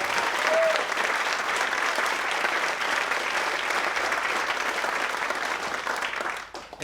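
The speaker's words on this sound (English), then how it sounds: "I'll give you a round of applause" A conference audience at the Master Mindset 2017 event breaks into loud, sustained applause that fills the room at a steady level, then tapers off at the very end.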